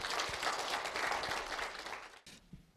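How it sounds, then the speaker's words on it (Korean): A lecture audience at a philosophy forum gives a welcoming round of applause, a faint, dense patter of clapping that cuts off near the end, leaving quiet room noise. "여러분 큰 환영의 박수 부탁을 드립니다."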